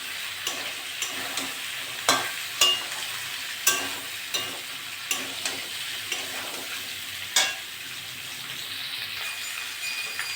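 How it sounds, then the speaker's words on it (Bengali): Fried shrimp, greens stems and pumpkin frying together in a pan, a continuous sizzle punctuated by irregular spatula scrapes and knocks against the pan, close by with no talking. "নেড়ে চেড়ে একটু কষে নিয়েছি"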